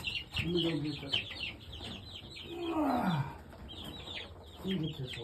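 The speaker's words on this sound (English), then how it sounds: "Welcome to Cedar Lake Farm, little chickens." Young chickens newly brought to a farm cheep and cluck in a busy, overlapping chorus of high chirps, close by, with a lower drawn-out call in the middle and faint voices mixed in.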